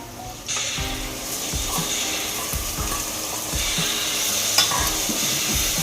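Onion, tomatoes and chillies sizzle in a pan for Maggi noodles while a spoon scrapes and stirs in quick, repeated strokes, close and fairly loud.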